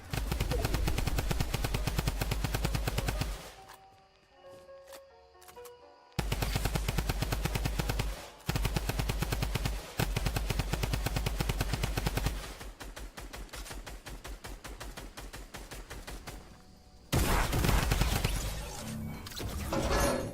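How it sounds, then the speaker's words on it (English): A drum gun fires in Fortnite, with long, rapid, loud bursts of automatic gunfire broken by short pauses and other game sounds. "the best one is likely holding the W key and killing someone with a drum gun"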